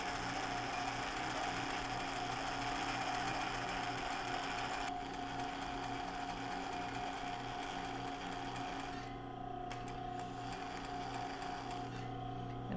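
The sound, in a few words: sewing machine zigzag stitching yarn onto linen top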